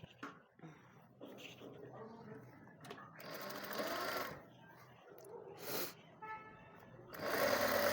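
A sewing machine stitches a warm winter salwar suit in short bursts, its whirring rising loudest toward the end, while someone talks over much of it.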